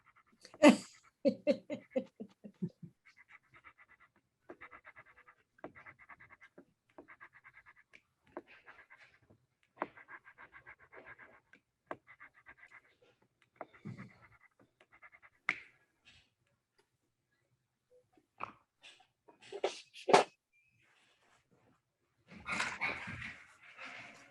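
A dog at dinner time moves about indoors with sniffs, pants, soft snorts and the odd faint woof, quiet and scattered over a long stretch with clicks and shuffles between.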